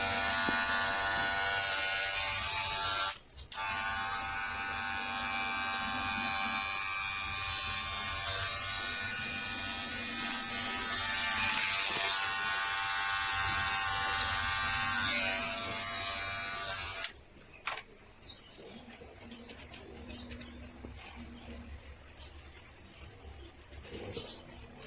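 Electric hair clipper buzzing steadily through hair during a crew cut taper, a loud close hum with a brief dip early on, then cutting off near the end to quieter handling noises.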